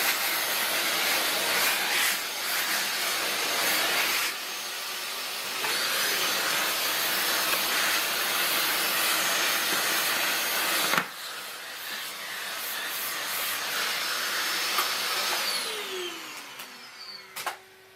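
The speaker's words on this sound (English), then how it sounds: "Helps to keep a vacuum cleaner handy to clean up the workspace." A vacuum cleaner runs steadily near a workbench while an arcade crane machine power supply is being repaired, a loud continuous hissing drone that shifts pitch partway through and then winds down at the end.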